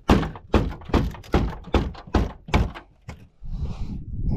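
A series of heavy, hollow thumps strikes repeatedly at a quick, uneven rhythm against a stuck door on a sun-baked old car, followed by a brief scrape.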